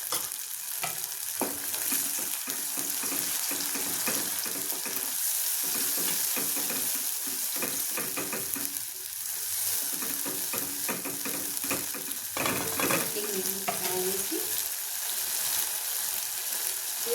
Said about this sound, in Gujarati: હવે આ ટમેટાને પેસ્ટ કરીને હલાવી દઈશું.